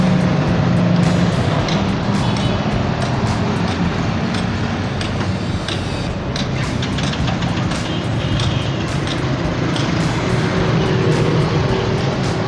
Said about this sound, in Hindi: ट्रैफिक रमन हुआ है, शोर शराबा काफ़ी है